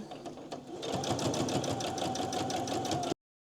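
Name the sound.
sewing machine stitching a fabric page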